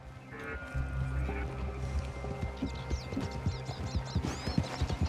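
Horse hooves clip-clop in a video game, a steady run of hoof clops under a low rumbling ambience, with a high whistling or chirping sound layered above toward the end.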